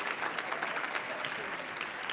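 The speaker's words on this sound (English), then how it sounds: "Give yourselves all around applause." Audience applause fills the room in a steady, dense wash of clapping at moderate loudness, continuous from start to end without pauses or voices.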